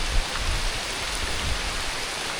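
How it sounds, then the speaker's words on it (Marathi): Heavy monsoon rain pours down in Konkan, a steady, even hiss of falling water close around, with no voices. "पाऊस आला आहे जोरदार."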